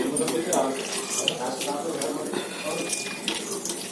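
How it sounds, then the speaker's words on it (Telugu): Water being poured off after cooking a curry, a steady running splash close by with a Telugu-speaking voice talking over it. "ఇలా అయితే వాటర్ అయితే నీట్గా తీసాను"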